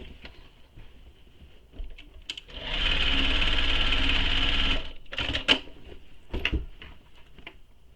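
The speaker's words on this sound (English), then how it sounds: "we're going to sew these two boxed corners with the seam allowance given in the pattern" A sewing machine stitches the boxed corners of a tote bag in one steady two-second run, with short bursts of handling noise before and after.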